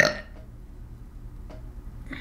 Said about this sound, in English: Did you just get burp on my pumpkin?